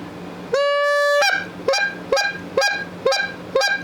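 A Faulk's short-reed goose call is blown close up: one long sustained honk, then a steady run of five clipped, rhythmic honks.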